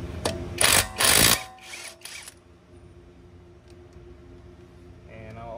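A ROBUSTRUE impact wrench loosens lug nuts on a raised car, a loud rattling burst of two to three short bursts in the first second and a half, followed by quieter mechanical clicks and hum.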